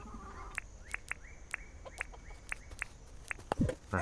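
Chickens in the farming game Dinkum give a run of short, bright clucks at a steady, spaced rhythm, each with a brief rising chirp. They sound close and fairly clear over a quiet ambient bed, with a louder rustling burst near the end and no talking.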